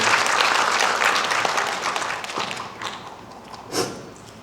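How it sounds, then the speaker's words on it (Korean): A crowd applauds warmly for a speaker at an academic conference, the clapping gradually thinning out and fading over a few seconds, with a last few scattered claps. "박수로 맞이해 주시기 바랍니다."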